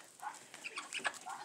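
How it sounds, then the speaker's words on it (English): Poultry calls from a barn flock of turkeys, hens and a Cayuga duck: several short, mid-loud clucks and squawks close by, with no talk. "that is a Cayuga duck."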